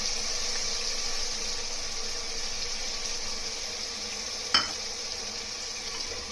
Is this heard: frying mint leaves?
yes